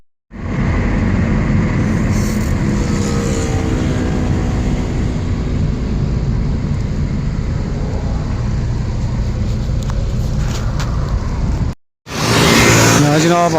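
Car driving along a road and pulling up at a roadside hotel, a loud steady engine and road rumble close inside the vehicle, cutting briefly to silence near the end before resuming.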